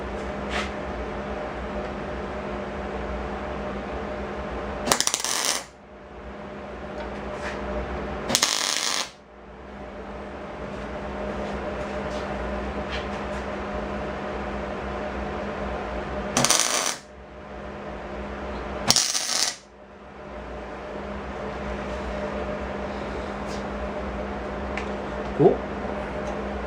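Tack welding a control arm plate on a Datsun 521: four short, loud bursts of welding crackle and sizzle, spaced apart, over a steady background hum, with no voices.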